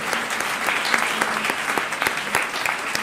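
Audience applause at a roundtable for school heads, dense clapping with individual sharp claps standing out, steady and fairly close throughout.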